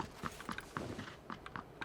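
Footsteps in the video game PUBG (Battlegrounds), a series of faint, quick steps in irregular rhythm over low game ambience, with no talk.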